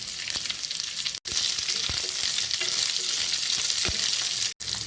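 Garlic, green chillies and onions frying in a pan with a steady, dense sizzle and crackle, a few brief stirring knocks and two short breaks in the sound.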